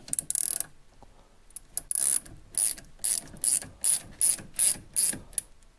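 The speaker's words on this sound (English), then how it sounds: "I like this ratchet driver." A ratchet driver tightens brake caliper bolts on a Lotus Evora, giving a series of quick clicking bursts that settle into an even rhythm of about ten ratcheting strokes, close and fairly quiet.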